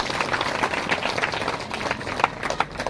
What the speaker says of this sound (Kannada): ನಿಜವಾಗ್ಲೂ ಚಪ್ಪಾಳೆ ಬರಬೇಕಾಗ್ತದೆ